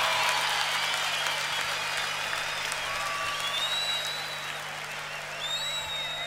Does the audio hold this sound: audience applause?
yes